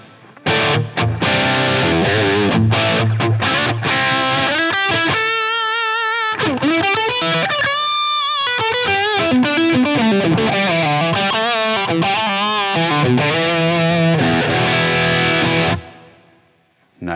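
Electric guitar played through a Line 6 HX Stomp with reverb added, a distorted, effects-heavy lead line with sustained notes and bends that rings out continuously before stopping abruptly near the end.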